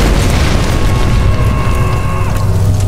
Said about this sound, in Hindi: क्या ही धमाका हुआ उधर.